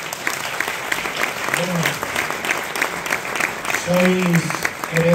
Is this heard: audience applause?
yes